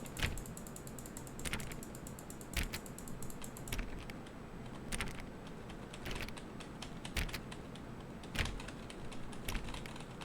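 Rapid repeated clicks of a button in The Stanley Parable, crisp mechanical taps in uneven bursts over a low steady background hum, with no talking.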